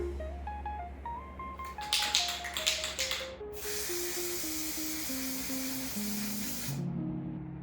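Aerosol primer sprayed onto a taped-off Jazzmaster guitar body, heard as two close bursts of spray: a short choppy hiss, then a long steady hiss of about three seconds, with a soft melodic tone running underneath.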